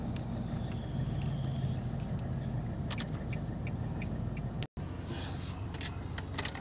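A car engine hums steadily at close range while the vehicle reverses, a continuous low drone with a brief cut near the end and faint clicks over it.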